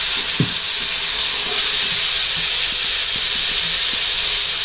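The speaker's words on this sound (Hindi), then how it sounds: "अदरक डाल दिए हैं तेल और घी में।" Ginger sizzles in a mix of oil and ghee in a home kitchen, a steady, fairly loud hiss with faint soft clicks underneath and no talking.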